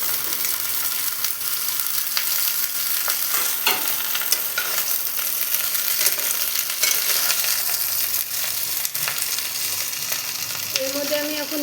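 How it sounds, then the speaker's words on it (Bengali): Sliced ridge gourd sizzles steadily in hot oil, a continuous close frying hiss with occasional stirring scrapes throughout and no talk. "এবার এর মধ্যে আমি ঝিঙেগুলো দিয়ে দেবো। আর ঝিঙেগুলো দিয়ে ঝিঙেটা হালকা করে ভেজে নেব।"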